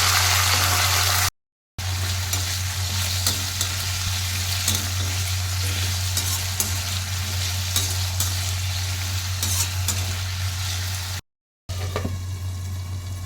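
Vegetables sizzle steadily in a kadai with cumin and asafoetida, a continuous frying hiss with a low hum beneath and occasional stirring clicks, broken by two short silent gaps.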